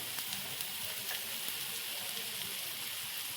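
Spices sizzling with mushrooms in a hot pan, a soft, steady crackle and hiss that stays faint and continuous, with no voices over it.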